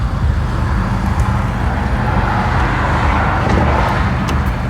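A car driving on the road, heard from inside as a steady loud rumble of engine and road noise with no talking.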